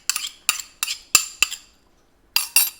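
Whisked eggs are mixed into a Christmas cake fruit batter with a utensil that clinks sharply against the bowl in a quick series of five taps, a short pause, then two more.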